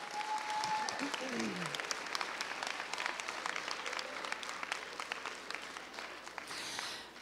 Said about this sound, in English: let's give a huge, big round of applause for them again